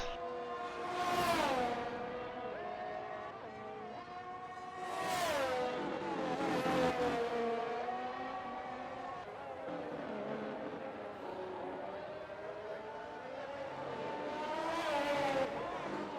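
An F1 car in the F1 22 racing game on a quick lap, its high-pitched engine revving through gear changes with sustained whining pitch sweeps and brief downshifts, steady and close throughout.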